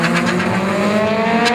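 A tuned car with water/meth injection launches hard at about 4,000 RPM, its engine droning loud and close with a brief tire squeal as the wheels spin.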